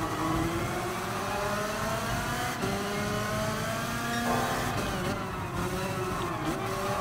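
Go-kart engines whine and rev continuously in Gran Turismo Sport, steady pitched drones rising and shifting as the karts race close together, loud and unbroken throughout.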